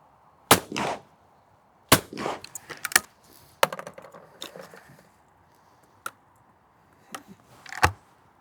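Sharp reports from a shotgun firing cheap Spanish-made club cartridges at clay targets ring out several times at irregular intervals, with quiet gaps between the bursts.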